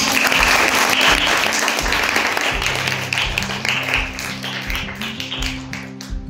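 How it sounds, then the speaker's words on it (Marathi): Schoolchildren in a girls' school classroom applaud loudly to welcome their vice-principal: dense, close, crowded clapping that gradually thins and softens into scattered claps toward the end. "एकदा जोरदार टाळ्या वाजवा"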